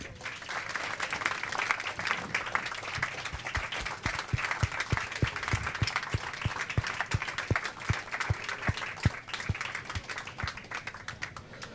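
An audience at a cast interview event applauds continuously, a dense wash of many hands clapping that holds steady for about twelve seconds.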